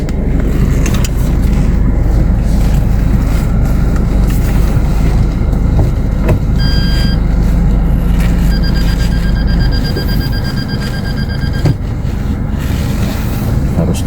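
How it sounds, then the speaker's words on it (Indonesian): A vehicle reversing into a parking spot, its electronic reversing beeper sounding in short repeated pulses over steady engine and road rumble close by. "kita parkir dulu, mundur dulu ya"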